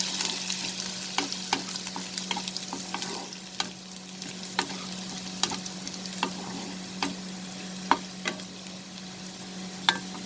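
Ginger and garlic sautéing in mustard oil: a quiet continuous frying hiss broken by scattered sharp clicks and taps of a spoon against the pan, irregular and close, with a low electrical hum beneath and no talking.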